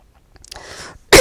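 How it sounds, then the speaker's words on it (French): A single sneeze and cough burst out at once, loud and close, ending a brief stretch of quiet breathing. "J'ai éternué et toussé en même temps."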